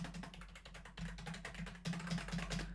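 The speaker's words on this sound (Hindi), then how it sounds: "ओके सो अब मैं अगर स्पेस प्रेस कर रहा हूँ" Keys tapped on a computer keyboard, a quick run of soft, close clicks in three short bursts with no talking.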